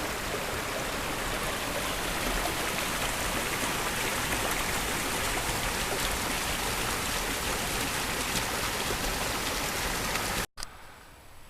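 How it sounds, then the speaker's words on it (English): Sherman Creek rushes steadily nearby in a dense, unbroken wash of flowing water that holds nearly constant in loudness before cutting off abruptly near the end. "Taking a little rest stop here beside Sherman Creek"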